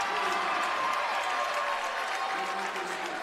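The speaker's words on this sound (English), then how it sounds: "the BCLUW crowd in front of us." A high school girls' state volleyball quarterfinal crowd lets out a loud, sustained collective gasp and murmur as a ball lands just out, a dense wash of noise filling the gym while a commentator talks over it.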